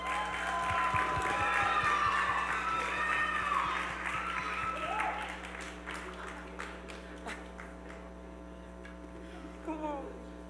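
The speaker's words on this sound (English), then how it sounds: "Another round of applause for Woody A. Raymond." A crowd at an outdoor Haitian Flag Day celebration in New York applauds, a dense wash of clapping that is loud at first and fades over several seconds, with voices and background sound mixed in.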